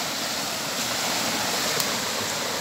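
Water rushing steadily in Suối Quýt, a flowing stream on a farm near Long Thành, a close, continuous broadband wash with no pauses and no voices.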